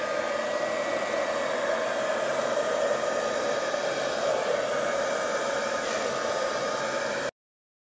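A hair dryer blows steadily across wet acrylic paint on a Dutch pour canvas, a loud, continuous airy roar with an even hiss that holds unbroken for about seven seconds before cutting off abruptly.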